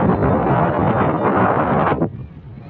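Strong wind roars into the microphone as a steady, loud rush, then drops off suddenly near the end.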